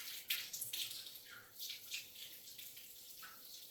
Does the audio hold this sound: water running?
yes